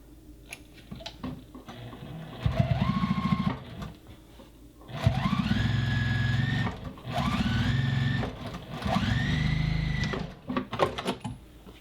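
A sewing machine hems the top edge of a denim tote bag in three bursts of fast, rhythmic stitching, each a few seconds long, heard up close with short pauses between runs.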